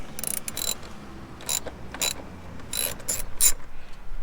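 A ratchet works an 8mm bolt loose in a 2006 Mustang GT engine bay, with quick bursts of clicking that repeat in short, uneven strokes close by.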